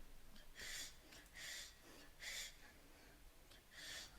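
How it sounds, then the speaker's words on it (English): Breathing sample pitched up five semitones, used as a rhythmic breathing pattern in a soulful beat: four airy, hissy breaths at a steady pace, quiet and close, with faint gaps between them. "to do this breathing pattern on the track"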